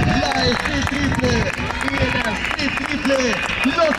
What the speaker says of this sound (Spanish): Y seguimos con este gran aplauso a los atrasos.